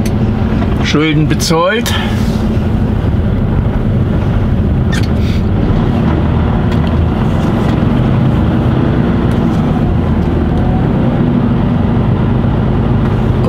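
A car drives cross-country over a field, its engine and tyre rumble steady and loud close to the microphone, with bumps and wind buffeting, and a voice speaks briefly near the start.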